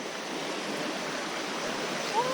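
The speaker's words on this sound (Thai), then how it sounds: "น้ำตกนะครับความสูงนะ 60 เมตรนะครับ น้ำตกเหว นรกนะครับ" Haew Narok waterfall in Khao Yai National Park, a 60-metre falls, gives a steady broadband roar of rushing water that stays even throughout, heard alone with no talk.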